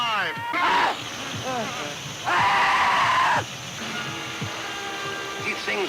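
Screams of people being eaten alive by flesh-eating creatures in a horror film, with shrill, wavering wails rising and falling, loud and close, alongside a continuous high sustained shriek and someone speaking.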